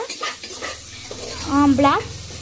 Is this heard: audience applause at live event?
no